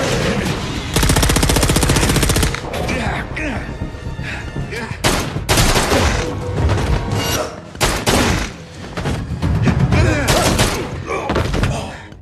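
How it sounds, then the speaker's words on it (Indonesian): Gunfire from a shootout in the film Breakout (2023): loud, dense bursts of automatic fire and single shots in rapid clusters, mixed with thuds and film sound throughout. "Alec tak sengaja melihat anak buah Sibar hingga terjadilah baku tembak di"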